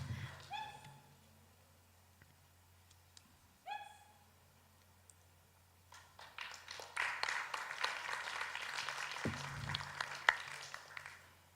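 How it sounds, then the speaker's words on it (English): A conference audience at a customs event on sustainability and the digital economy applauds a dancer from the Ministry of Finance. The applause is faint and distant and builds after a few short tonal chirps and a quiet stretch. "please give applause to the MOF dancer from Ministry of"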